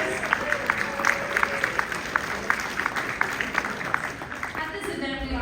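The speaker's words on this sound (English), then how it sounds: "A round of applause all for some leaders" Applause for leaders at an award ceremony at a leadership development conference, steady clapping from a seated audience with a few sharper claps standing out, running throughout.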